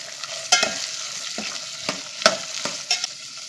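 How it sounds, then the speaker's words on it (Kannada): Cauliflower florets and peas frying in hot oil give a steady close sizzle, broken by a few sharp scrapes and clinks of stirring in the pan, with no voices. "ಈಗ ಈ ಸ್ವಲ್ಪ ಎರಡು ಚೆನ್ನಾಗಿ ಫ್ರೈ ಮಾಡ್ಕೊಳ್ಳೋಣ. ಇದರಲ್ಲಿ ಎಣ್ಣೆಯಲ್ಲೇ ಚೆನ್ನಾಗಿ ಫ್ರೈ ಮಾಡ್ಕೊಳ್ಳೋಣ."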